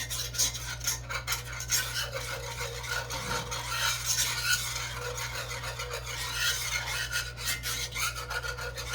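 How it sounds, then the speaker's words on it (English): Steady scraping of a whisk stirring flour into hot oil in a pan, a continuous close rasping and rubbing with a low steady hum underneath, no talk. "Stirring it around helps get out any of these clumps."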